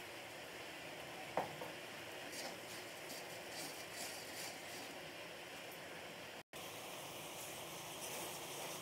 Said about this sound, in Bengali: আমি ভালো করে কষিয়ে নিয়েছি